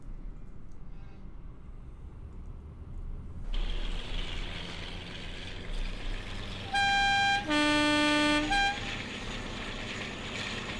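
A Class 52 Western diesel locomotive with the Armstrong Powers sound pack in Train Simulator: low engine rumble that swells, then two loud two-tone horn blasts, the second longer, over a steady idling drone.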